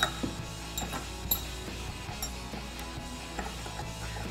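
Pre-Loctited bolts being tightened into a Baja Designs roof light bar kit on a 2021-2022 Ford Bronco: repeated ratcheting clicks and metallic mechanism noises close up, steady and without speech.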